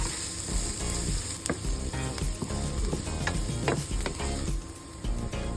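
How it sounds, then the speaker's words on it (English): Garlic and onion sautéing in a pan for beef caldereta, a steady bright sizzle with scraping and clinking of a utensil stirring against the pan, close and alone without voices. "Next, in the same pan, we saute garlic and onion."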